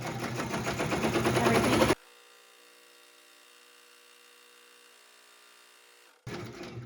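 Sewing machine tacking down a pieced fabric sunglasses case, a fast, close whirring stitch for about two seconds, then near silence, then a brief restart at the end; one word is spoken.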